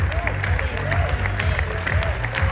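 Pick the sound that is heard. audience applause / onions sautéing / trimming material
audience applause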